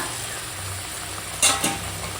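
Fried pabda fish dropped into simmering mustard gravy in a pan: a low steady bubbling, then two sharp splashy sizzles as the pieces go in, close and fairly quiet, no voices.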